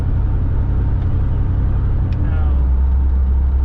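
A 1991 Firebird Trans Am converted to a carburetor drives on a test drive, its engine droning steadily at close range and dropping into a deeper, louder low rumble near the end.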